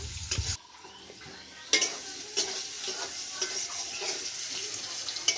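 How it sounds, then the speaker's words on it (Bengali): Paneer pieces frying lightly in oil, a quiet steady sizzle with occasional scraping and clinking of a spatula in the pan, heard close with no talk. "পনিরগুলো ভাজা হয়ে গেছে, হালকা একটু হালকা ভেজে নেব"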